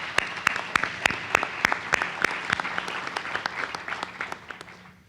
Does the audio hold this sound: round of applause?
yes